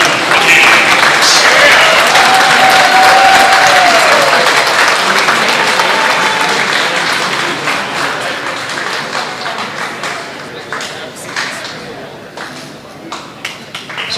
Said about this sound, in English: how about a huge round of applause for the American League Rookies?